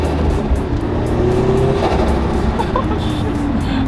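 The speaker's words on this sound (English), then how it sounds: "The turbo sound is so freaking good, guys." A boosted 2022 Subaru BRZ / Toyota GR86 pulls hard, its engine and turbo roaring loudly under heavy road and wind noise, a faint whistle rising briefly over the dense rumble.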